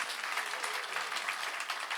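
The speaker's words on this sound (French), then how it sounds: "On peut les applaudir bien fort." Church congregation applauding at a Sunday online service, a dense, steady wash of many hands clapping at moderate level with no speech.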